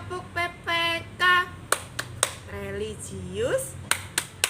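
A teacher and third-grade children perform the Tepuk PPK clap chant, with sung and chanted voices broken up by crisp, close hand claps that land in a spaced, rhythmic pattern between the phrases.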